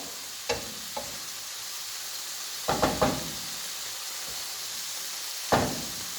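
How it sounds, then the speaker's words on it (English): A few short bursts of sizzling spit as mushrooms and brandy cook in a hot pan, with quiet gaps between them and no talking. "Just let it sizzle for a minute or so."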